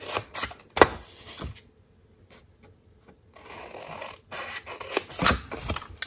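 Scissors snip and rasp through candy box card stock up close, a cluster of sharp cuts, then a quiet gap, then more rough cutting strokes.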